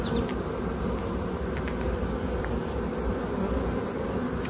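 Honeybees swarming over a brood frame during a spring hive inspection, a dense steady buzzing hum close by with a few individual bees whining past.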